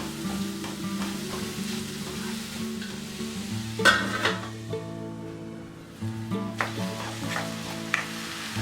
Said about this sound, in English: Now add chopped onion and saute till soft.